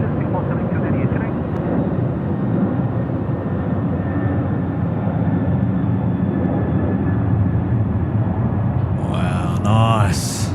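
An airplane rumbling at Sydney Airport at night, a loud steady low roar throughout with a voice briefly near the end.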